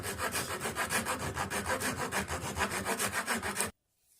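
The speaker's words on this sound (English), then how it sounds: "take a rasp and try to angle this out more" Steady back-and-forth rasping on a wooden comb being shaped by hand, rhythmic strokes about four per second, close and loud, stopping abruptly near the end.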